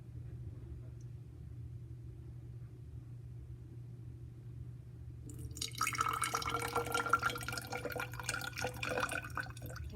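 Tap water poured into a measuring container marked at 50 millilitres, a steady splashing pour that starts about halfway through after a low humming background.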